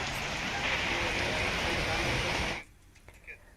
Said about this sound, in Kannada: ಬಿಟ್ಟು ಬಿಡದೆ ಮಳೆ ಸುರಿತಾ ಇದೆ